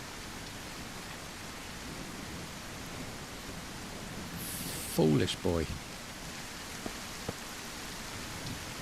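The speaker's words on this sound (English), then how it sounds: "I hate it when it rains." Steady hiss of rain falling in the survival game Mist Survival, constant and broadband throughout, with a brief burst of speech partway through.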